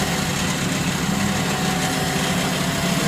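A wood lathe spins steadily with a gouge cutting the workpiece, giving a dense, continuous whirring hiss and hum at close range and an even level throughout, with no talking.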